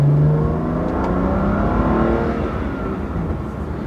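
Engine of a BMW M2 CS fitted with a Carbahn Stage 2 piggyback tune, heard from the cabin: a steady, loud intake drone with layered harmonics that rise slightly as the car pulls, no talking.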